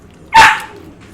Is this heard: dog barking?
yes